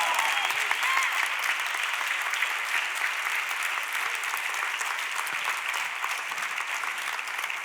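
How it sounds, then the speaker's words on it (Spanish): Church congregation applauding during a Spanish-language service, a steady, dense wash of clapping from many hands that holds at even level for several seconds, moderately distant. "Dale un fuerte aplauso al resucitado."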